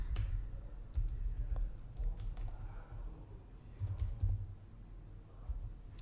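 Typing on a computer keyboard, a steady run of close, soft key clicks in uneven bursts that continue for several seconds with no one speaking.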